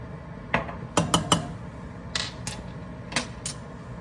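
Spices such as crushed red pepper and oregano are stirred into a pot of homemade spaghetti sauce, a spoon clinking against the pot in a few sharp, scattered taps, close and alone.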